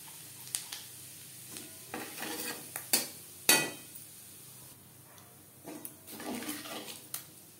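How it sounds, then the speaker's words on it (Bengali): Whole cumin seeds dropped into hot oil left from frying fish, giving a soft crackling sizzle with intermittent louder pops and clinks of a spoon against the pan. "মাছ ভেজে নেওয়া তেলে ফোড়নে দিয়ে দেব গোটা জিরে"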